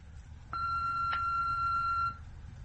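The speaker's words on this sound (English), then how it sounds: "please record a message after the tone" An answering machine sounds its record tone, a single steady electronic beep lasting about a second and a half, clear and alone against a quiet room.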